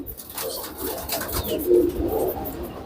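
Allahabadi pigeons coo in a loft, soft repeated rolling calls from several birds blending together close by, rising a little in the middle before settling.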